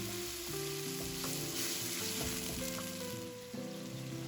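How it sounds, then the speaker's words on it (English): Sambal sizzling and frying in hot oil in a wok, a steady close crackle throughout with stirring scrapes, no voices. "Fry the sambal in hot oil for about a minute to wake up all those flavours."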